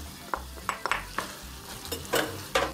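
Tomato paste frying in a pot with potatoes and carrots, stirred by a spoon that gives about eight sharp, close scrapes and clatters over a low, steady sizzle.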